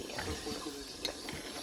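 Faint tap water runs into a kitchen sink during dishwashing, a soft steady splash with light clinks of dishes, quiet and somewhat distant.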